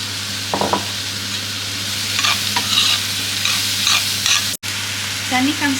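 Onions fry in a pan while being stirred, a steady sizzle under a constant low hum, with scraping strokes of the utensil scattered across the clip.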